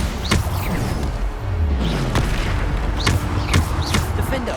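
Bombarda explosion spell in the video game Hogwarts Legacy, a series of sharp booming blasts landing about once a second over steady combat rumble, loud and close, with no talk.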